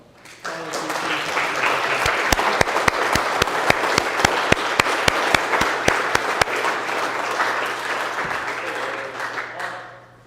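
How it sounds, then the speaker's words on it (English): ROTC cadets at a Veterans Day celebration receive a sustained round of applause from the crowd, dense clapping that swells and fades over about ten seconds, with a few sharp louder claps near the front. "Let's maybe give them a round of applause here before they retire the colors."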